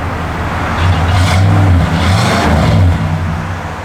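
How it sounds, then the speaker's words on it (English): A 1963 Oldsmobile Dynamic 88 engine revs up from idle, a loud deep V8 rumble swelling twice in quick succession before settling back. "Give it a little rev."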